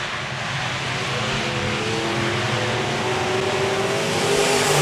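A pack of B-Modified race cars roars around Park Jefferson Speedway, a loud, sustained layered engine drone with whining tones that swells slightly toward the end, with no voices.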